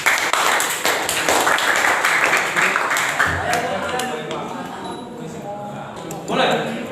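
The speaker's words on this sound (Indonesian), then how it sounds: "Kasih tepuk tangan untuk kelompok." A classroom of students claps for a student group after a physics product presentation at a vocational school, a dense burst of hand claps that thins out over several seconds, with voices talking over it.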